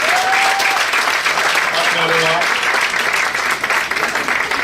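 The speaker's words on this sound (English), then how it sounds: "Please, can you give a round of applause for this lady?" Audience applause at an administrative office inauguration in America, a steady, dense wash of clapping filling the whole stretch, with a few voices and faint tonal sounds mixed underneath.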